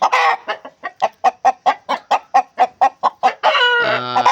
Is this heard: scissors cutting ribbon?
no